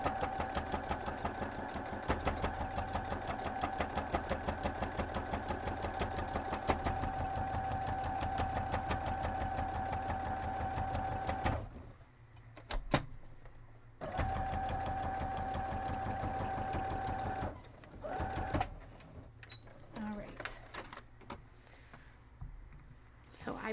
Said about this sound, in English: So let's go sew that down.